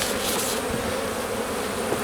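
Honey bees swarm around an open beehive during an early-March hive inspection, producing a dense, steady buzz close by, continuous and unbroken with no voices.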